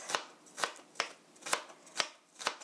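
Two cloves of large garlic pressed and chopped with a knife on a cutting board, six evenly spaced crisp chops about half a second apart, close and fairly quiet with nothing else behind them.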